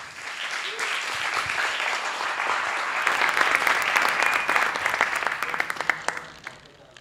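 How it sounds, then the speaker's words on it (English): An audience applauds continuously, a dense wash of clapping that swells in the middle and tapers off at the end. "So one other round of applause for Nieves, please."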